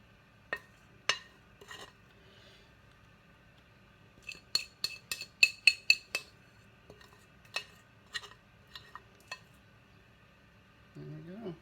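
A utensil scrapes vegan chickpea banana bread batter from a mixing bowl, giving scattered sharp clicks and taps, sometimes in quick clusters, with quiet gaps between them.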